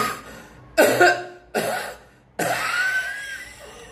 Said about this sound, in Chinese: 你要用丹田咳嗽